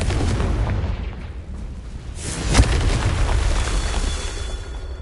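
A Confringo blasting spell in Hogwarts Legacy goes off with a loud booming burst around the middle, set over a continuous rumbling background that stays dense throughout.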